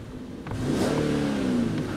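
A parked Infiniti QX70 with its 3.7-litre engine is revved from idle, the tone climbing into a sustained, fairly loud mid-pitched drone that holds near the top of its revs, heard close by.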